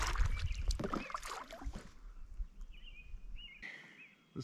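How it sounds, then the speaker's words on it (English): Kayak paddle strokes splash and drip on a clear interior British Columbia lake, close, with soft water lapping and faint bird calls in the background. "This paddling business, I gotta tell you, it's not for me."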